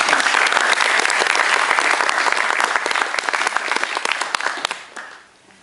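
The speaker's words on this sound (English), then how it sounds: "So maybe a little round of applause as a thank you." A roomful of people clap in thanks to the organizers of a Mars One MarstronautNight event; loud, thick applause with sharp individual claps that thins out and fades near the end.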